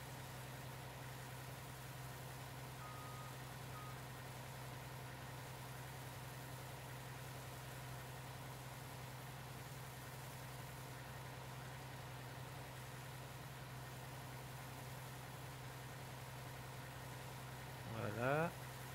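A tractor engine idles in the Farming Simulator video game, a steady low drone holding evenly throughout, with a brief louder burst near the end.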